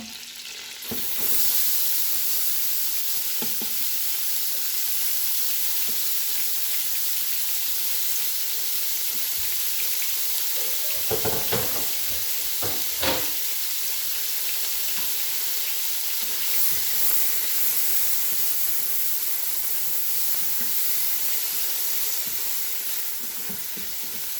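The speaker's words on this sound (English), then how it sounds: "Once the butter is melted, yeah, in a moment we add the onions and garlic that we chopped" Chopped onions and garlic sauté in melted butter in an Instant Pot, a steady loud sizzle and hiss that lasts throughout, with a few sharper stirring knocks near the middle.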